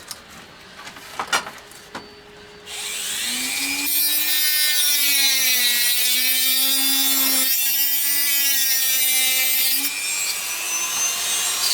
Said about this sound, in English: I'm going to cut these balls off with the Dremel and just a sanding, like a cutting sanding disc.